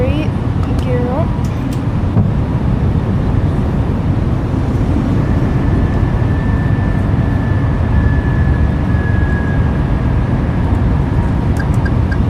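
Inside an Airbus A320 cockpit just after takeoff from Boston, a loud, steady engine roar fills the flight deck as the landing gear retracts, joined midway by a thin sustained whine, with crew voices briefly heard.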